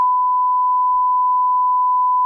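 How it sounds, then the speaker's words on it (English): A 1000 Hz test tone played through a LiNKFOR DAC holds as one pure, steady, unwavering beep, loud and clean from start to finish with no other sound. "1000 hertz tone on the LiNKFOR."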